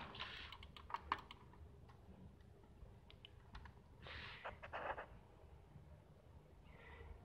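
Typing on a backlit mechanical LED keyboard: clusters of quick, close clicking keystrokes in irregular bursts with short pauses, fairly quiet against a low background hum, no talking.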